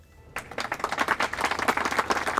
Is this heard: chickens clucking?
no